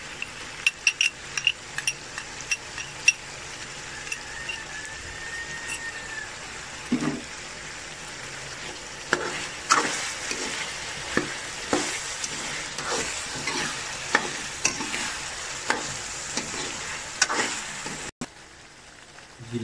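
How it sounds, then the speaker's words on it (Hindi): Garlic-ginger paste with salt frying in hot oil for chicken potato biryani, stirred with a spoon: a steady close sizzle broken by repeated scraping stir strokes, with no voices. "लहसुन अदरक हमारा इसमें फ्राई हो चुका है"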